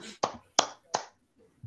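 Three sharp, evenly spaced hand claps ring out close by, slow and deliberate, followed by a faint murmur of voices.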